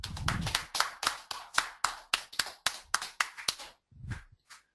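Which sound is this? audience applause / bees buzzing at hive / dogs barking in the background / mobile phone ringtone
audience applause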